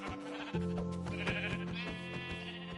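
In a Minecraft hardcore game, a sheep gives a sharp bleat that carries on in wavering, drawn-out tones while dull hits land rhythmically underneath. The sound is close and clear, with no talk over it.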